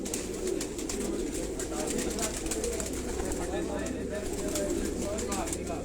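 Black Cobra breed pigeons cooing, in a continuous low murmuring coo, close and steady, with some broadband background noise throughout.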